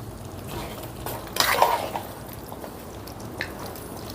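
A spoon scrapes and clinks against a metal pot while chicken curry is mixed with dry coconut powder and coriander, a brief cluster of close, bright clatters over a quiet background.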